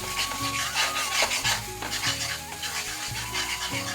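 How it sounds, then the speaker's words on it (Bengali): Prawn malaikari curry mixture sautéing in oil, a rough, rasping stir-and-sizzle texture running throughout beneath prominent background music. "যত সময় তেল ছাড়তো না তত সময় আমি এটা সাতলাইতে থাকবো। ভালো করে আমি ভাজবো।"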